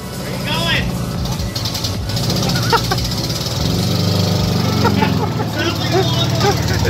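Datsun 280Z engine with a badly worn exhaust, running with a steady, raspy drone like a lawnmower, close and loud throughout, with voices talking over it.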